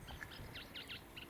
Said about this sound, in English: sedge warblers in the reeds.